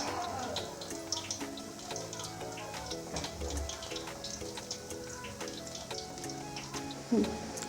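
Chicken pakoras frying in hot oil on a low flame, with a soft, steady sizzle and light crackling pops heard close in a quiet kitchen.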